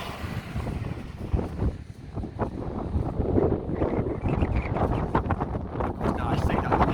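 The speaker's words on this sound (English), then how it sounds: "the wind is getting terrible" Gusty wind buffets the microphone outdoors on a street walk, a steady rumbling roar with louder surges throughout, mixed with some voice.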